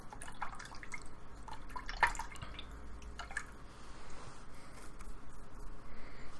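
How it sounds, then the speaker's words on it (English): A paintbrush is swished and rinsed in water after acrylic painting, giving soft dripping, sloshing and splashing sounds with a brief louder splash near the start, all close by and with no speech. "So I just wash my brush"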